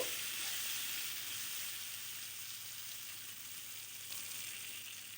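Drumstick pieces with salt and turmeric cook in a pan, producing a soft, even frying hiss that holds steady throughout, with little sign of stirring strokes.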